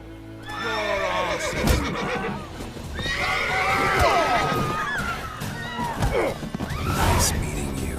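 Repeated horse whinnies in The Witcher 3: Wild Hunt with a slightly processed quality, several shrill neighs over clattering hooves and background commotion.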